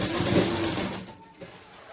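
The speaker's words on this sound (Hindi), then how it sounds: "तो मैं आपको सिलाई करके दिखाती हूँ।" A sewing machine stitching fabric for a stylish top runs steadily for about a second, then fades to quieter handling noise.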